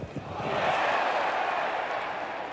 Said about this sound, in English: Crowd certainly getting very involved here